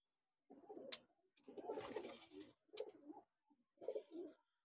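Pigeons kept for flying, all males and young birds, coo in several soft, throaty bursts close by, with short pauses between the calls and no talk over them.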